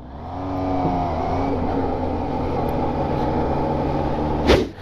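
A Kawasaki Z 1000 H2 motorcycle engine runs close by with a steady, harmonically rich drone, then ends in a brief sharp burst near the close.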